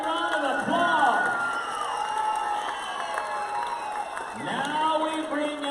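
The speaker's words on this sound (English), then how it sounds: "Big round of applause." A crowd at an American Indian Heritage Day event applauds and cheers, with voices rising over the clapping, while an announcer speaks over a public address system.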